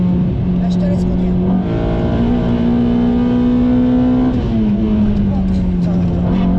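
A Honda Accord Type R with a VTEC engine pulls hard under acceleration, its loud, steady engine note climbing in pitch and then easing back, heard from inside the car.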